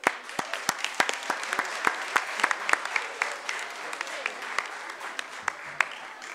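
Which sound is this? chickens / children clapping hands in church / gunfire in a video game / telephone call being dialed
children clapping hands in church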